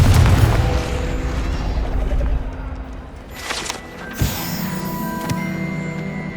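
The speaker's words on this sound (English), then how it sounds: "Confringo" A Confringo fire spell blasting in Hogwarts Legacy, a deep low boom at the start followed by a sharper burst partway through, set against game ambience with soft bird-like coos.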